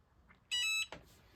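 A short burst of loud, steady electronic beeping lasting about a third of a second, heard near and alone in a quiet indoor room during a Christmas present opening.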